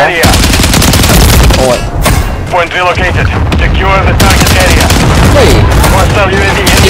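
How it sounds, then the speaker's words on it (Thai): Loud, dense gunfire in a shooting video game, continuous rapid bursts and blasts filling the whole stretch, with a man's excited exclamations over it. "ยิงมันเยอะอ่ะดีมากเลย"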